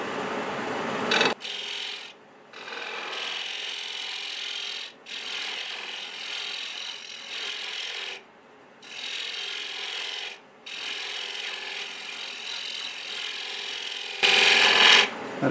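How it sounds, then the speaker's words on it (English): A scraper shears across spinning Wenge wood on a lathe during segmented vase turning, a close, steady dry rasping in repeated passes broken by short pauses. "I'll do a little shear scraping on the Wenge because it seems to cut a little better that way"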